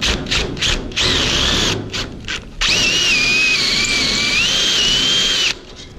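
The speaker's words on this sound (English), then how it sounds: "drilling this through." A power drill bores through a screen door at the lock area, whining in short bursts before a long steady run with a rising squeal, loud and close, then cutting off.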